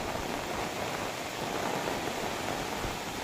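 Heavy rain falls steadily outdoors, a dense, even hiss of drops at moderate level that continues without pause and with no voices.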